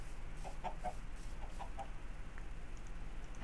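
Chickens cluck in the Minecraft video game, a few short clucking bursts over a steady low background hum, moderately faint.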